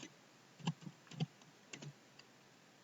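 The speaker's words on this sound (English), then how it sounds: "these are just random numbers I'm typing" Numbers are typed on a computer keyboard in small clusters of quick, crisp key clicks separated by short pauses, close and fairly quiet against a faint room hiss.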